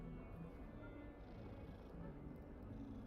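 A cat petted in a Harry Potter video game purrs in a soft, steady, low rumble, close and quiet, with a faint meow-like tone partway through.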